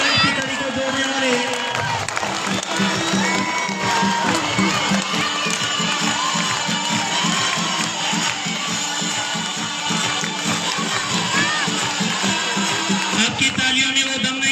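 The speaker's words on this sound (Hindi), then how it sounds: "एक बार जोरदार क्लैपिंग शांति जी सर के लिए" A school audience at a Teachers' Day celebration claps and cheers loudly and continuously, with children shouting in a dense crowd roar throughout.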